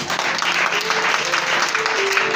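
A church congregation claps in praise to God during a sermon on the resurrection, dense applause lasting throughout with some faint voices mixed into the crowd.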